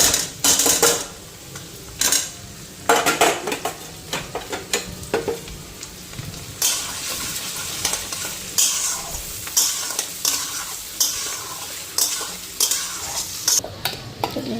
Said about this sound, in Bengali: পেঁয়াজটা হালকা ফ্রাই হইলে আদাটা দিব কুচাইয়া